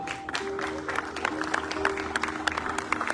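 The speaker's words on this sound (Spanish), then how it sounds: "Le da palmas al Señor." A church congregation claps for the Lord during a sermon on obedience to God, distinct rhythmic handclaps at moderate distance, fairly soft, with a sustained tone running underneath.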